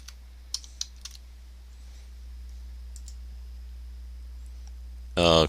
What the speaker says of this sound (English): So going to type in a super secret password.